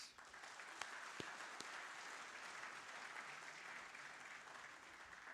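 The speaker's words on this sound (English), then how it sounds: "if we do not give them a round of applause" Faint, steady applause from an audience at a college's centenary closing ceremony, a continuous wash of many clapping hands with a few sharper claps standing out.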